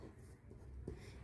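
Pen writing out a maths solution, a faint, soft scratching on paper, quiet and continuous.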